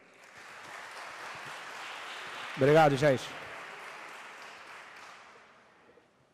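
Applause for a newly elected city councilman at a women's recognition event, a soft, distant spread of clapping across the room, briefly interrupted by someone speaking a few words in the middle.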